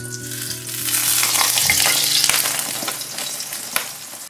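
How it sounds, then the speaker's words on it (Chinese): Egg frying in cooking oil in a pan, the second side now cooking, gives a steady, close sizzle and crackle throughout with a few sharper pops and no talking. "再煎至另外一面"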